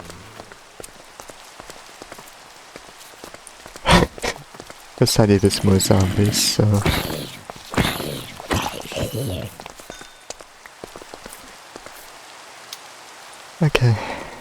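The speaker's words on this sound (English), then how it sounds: "Oh, and it started raining. I love the rain." Steady rain patters down in the video game Minecraft, a constant hiss that continues beneath a man's speech and several sharp game sound effects.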